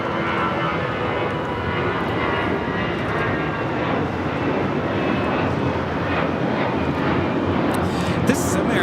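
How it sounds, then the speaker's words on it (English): American Airlines Airbus A319 taking off from Los Angeles LAX for San Antonio, a loud continuous jet engine roar that holds steady, with faint crackle and some voices in the background. "This is American Airlines 1113 taking off to San Antonio on the A319."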